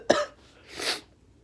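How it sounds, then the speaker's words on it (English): A single sharp cough close by, then a second breathy, rasping cough, with quiet background afterward. "I just got this cough that won't go away"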